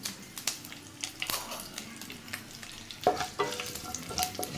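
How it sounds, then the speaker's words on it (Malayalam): Mustard seeds and curry leaves sizzle in hot oil for a beef curry, a close crackling fry with sharp pops and occasional stirring clatter throughout. "നമുക്ക് നന്നായിട്ട് കടുക് പൊട്ടണം"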